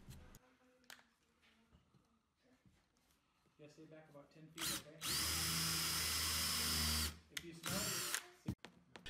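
Close, loud whir of a power drill boring a pilot hole and countersink in wood for a picture frame shadow box, one sustained burst of a few seconds with shorter bursts and handling noise around it, and someone talking before it.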